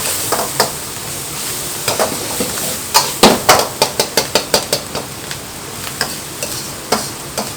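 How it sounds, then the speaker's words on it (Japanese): Minced meat frying in a pan while being broken up, with a steady sizzle beneath a run of sharp utensil clacks and scrapes that speed into a rapid rhythmic burst in the middle. "ミンチをね、ここで火を通しながらほぐしてください。"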